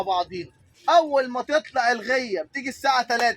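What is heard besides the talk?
None of the usual background noises is heard.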